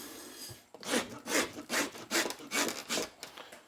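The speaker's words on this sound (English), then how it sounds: "A block of cedar or pine on a traditional upper bay Decoy body lathe." Cedar or pine decoy body block turning on a traditional upper bay decoy body lathe, a close wooden rasping and rubbing in regular strokes about every half second, rising and falling with no talking.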